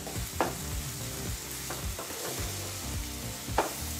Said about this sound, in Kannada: ಈಗ ಈರುಳ್ಳಿನ ನಾವು 4-5 ನಿಮಿಷಗಳ ಕಾಲ ಮೀಡಿಯಂ ಫ್ಲೇಮಲ್ಲಿ ಫ್ರೈ ಮಾಡ್ಕೋಬೇಕಾಗತ್ತೆ.